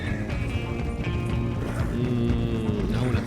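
Several horses gallop in Red Dead Redemption 2, their hooves clattering in a quick, steady rhythm close by, with faint background sounds mixed in.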